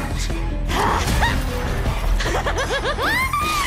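Cartoonish dog barks and yips from the video game Honkai: Star Rail, a quick run of bright, loud yelps amid game music and effects.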